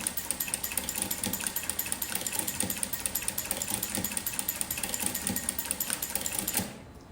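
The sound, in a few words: industrial sewing machine with ruffler foot ruffling fabric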